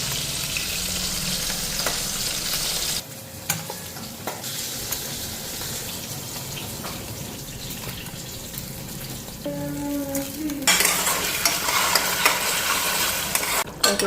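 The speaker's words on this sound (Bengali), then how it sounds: "আর এদিকে বেগুন ভাজাটা বসাইলাম" Eggplant fries in a pan with a steady, broad sizzle that drops briefly, then returns louder, with faint clinks and a trickle of running water in the kitchen background.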